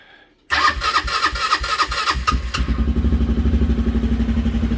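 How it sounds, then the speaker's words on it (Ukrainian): A Rato 200 quad bike engine cranks and catches outdoors in cold weather, sputtering briefly before settling into a loud, steady, throbbing idle close by. "В принципі, достатньо стабільно запускається рато"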